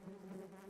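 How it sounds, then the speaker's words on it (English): Honeybees buzz in a steady, low droning hum, faint and close, with no voices. "This is the buzz from the most important living being on the planet"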